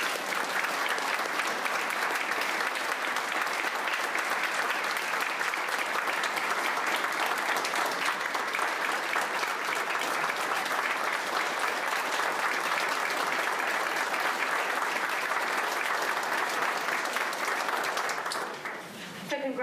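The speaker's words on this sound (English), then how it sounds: "deserves another round of applause" Sustained round of applause from a crowd at a health care professionals of the year luncheon, steady dense clapping holding for about eighteen seconds before trailing off at the end.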